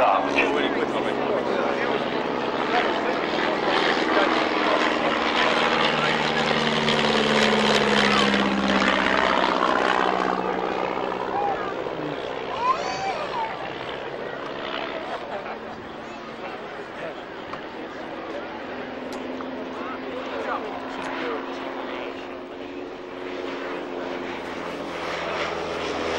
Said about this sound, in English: Our particular Hornet, which belongs to the Shuttleworth, has the standard gypsy major engine that everybody had